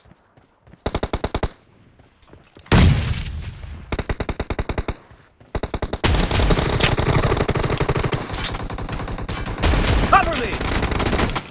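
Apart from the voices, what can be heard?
gunfire from Shotgun S686 and Groza in a video game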